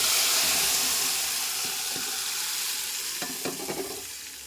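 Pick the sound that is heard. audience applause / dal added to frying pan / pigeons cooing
dal added to frying pan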